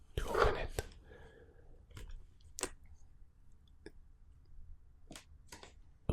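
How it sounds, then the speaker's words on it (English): Pointy scissors cut into the plastic wrap of a Pokémon Surging Sparks Elite Trainer Box, giving a few sharp, close snips and crinkles separated by quiet pauses, with a brief soft whisper near the start. "I'll take the pointy scissors to open it."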